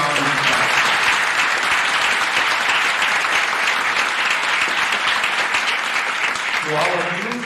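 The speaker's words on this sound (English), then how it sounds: "Let's give all the contestants one more round of applause" A full round of audience applause for the contestants at a 1991 spelling bee holds steady and loud for several seconds, with a voice briefly audible at the start and again as it fades.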